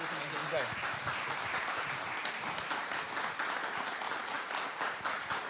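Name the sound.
audience applause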